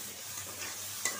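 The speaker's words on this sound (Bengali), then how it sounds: "এখন আমি মশলাটা ভালো করে কষায় নিব।" Spices fry in oil with a little water in a pan, a steady close sizzle with a soft stirring scrape and a sharp click near the end.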